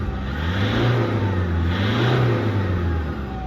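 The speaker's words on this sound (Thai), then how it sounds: "เวลาเร่งเครื่องอยู่กับที่" A 2.5-litre Toyota Hilux Vigo Champ pickup engine is revved while parked, two rising and falling surges of engine roar heard up close and loud, with no voices over them.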